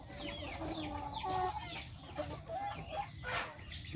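Young chickens kept at home cluck and chirp in busy, overlapping bursts close by, over a constant hiss of background noise, with no talking.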